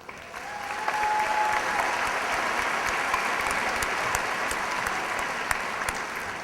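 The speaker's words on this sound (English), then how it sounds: "I ask you to please hold all applause until the end" An audience at a junior high graduation ceremony for a class of 2013 breaks into sustained applause that rises quickly and holds at an even, crowded level.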